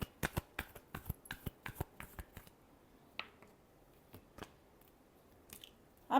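Tarot cards being shuffled by hand, a rapid run of sharp, close riffling snaps that thins into scattered single flicks and taps, with no talking.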